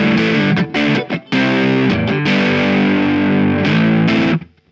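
A distorted Sire S7 electric guitar with Lace Sensor Gold HSS pickups plays sustained, fuzzy, slightly muddy chords with brief gaps between them, loud and close, ringing out then cutting off at the end.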